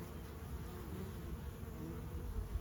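Honeybees from a Flow Hive in California buzz softly and continuously, a faint, steady hum of wings with no other sounds.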